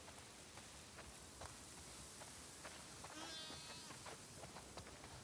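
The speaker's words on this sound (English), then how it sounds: "Wow, that's a lot of sheep." A flock of sheep bleats in The Last of Us Part II, a wavering call rising over a steady wash of rain, with other faint bleats scattered through the constant patter.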